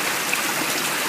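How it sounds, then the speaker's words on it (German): Steady wash of water at a spring while a Katadyn hand filter is pumped, a broad continuous hiss and trickle with no clear strokes, close and even throughout. "Jetzt füllt sich der Filter. Und das Wasser wird gepumpt."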